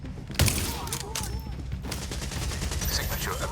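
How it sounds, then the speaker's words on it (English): Rapid rifle fire from a Shredding Marksman Rifle in The Division Resurgence, a dense stream of sharp shots over game ambience with a loud boom near the start. "Let's get him! With the Shredding Marksman Rifle I've been testing out on the side."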